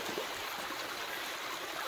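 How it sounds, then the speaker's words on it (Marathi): Cold spring water on a Ratnagiri hillside flows in a steady, close, broadband rush with no voices over it. "आम्ही आता जातो झऱ्यावर पाणी भरायला। झरा किती मस्त थंडगार पाणी"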